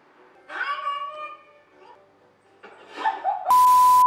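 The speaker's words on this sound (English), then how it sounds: "Show me funny videos with cats." Cats meow in a funny cat video streamed through a Xiaomi Mi Box S 4K TV box: two drawn-out meows a second or so apart, followed by an abrupt loud electronic tone and noise burst at the end.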